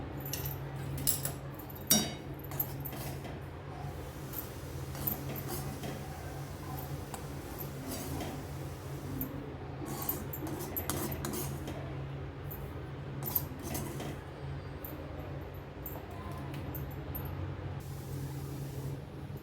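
Roasted semolina gets scooped out of a pan in a home kitchen, light scraping and metallic clinks of a spoon against the pan repeating irregularly over a low steady hum, with no one talking.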